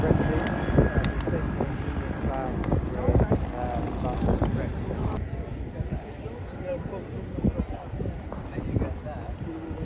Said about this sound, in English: Oh, here comes a helicopter.